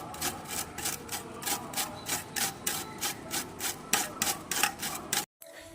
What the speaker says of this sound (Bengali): এরপর এই আমগুলি একটি গ্রেটারের সাহায্যে আমি গ্রেট করে নেব।